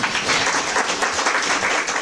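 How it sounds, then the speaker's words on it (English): Steady, dense applause from an audience at a college HR conclave, many hands clapping together throughout without a break. "So a big round of applause to the college management."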